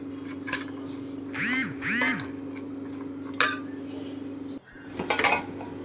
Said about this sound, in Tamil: இப்போ எல்லாமே மிக்ஸ் பண்ணிக்கோங்க.